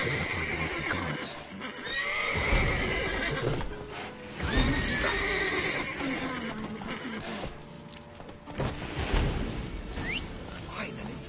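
Repeated horse neighs and whinnies from The Witcher 3: Wild Hunt ring out over steady hoofbeats, up close and fairly loud, with game dialogue woven among them.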